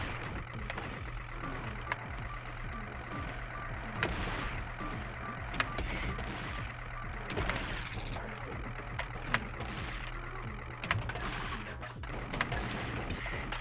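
Repeated gunshots in the game Gato Roboto crack out as short sharp bursts over a steady low game hum, spaced every second or two at moderate loudness, with no voices.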